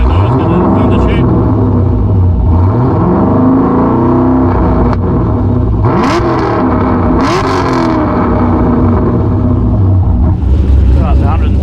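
A slammed Holden VF Commodore revs repeatedly up close, its loud exhaust rising and falling in several sweeping surges over a continuous rumbling idle, with brief voices in between.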